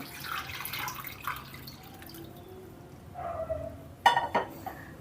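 Milk being poured onto cooked rice for temple-style curd rice, a soft liquid trickle and splashing that builds near the end, close and moderately loud with no talking.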